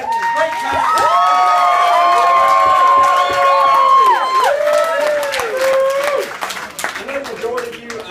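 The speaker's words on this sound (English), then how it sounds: "Let's give a round of applause." A large wedding crowd claps and cheers loudly and steadily for several seconds, with whoops and shouts over the applause before it begins to fade.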